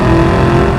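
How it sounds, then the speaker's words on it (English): A 2004 Ford Cobra fitted with an aftermarket MagnaFlow exhaust gives a loud, steady, close engine drone over a short moment with no voices. "It does have aftermarket MagnaFlow exhaust."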